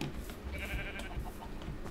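A sheep bleats in the Minecraft video game, one wavering bleat near the middle over quiet background noise with no talk.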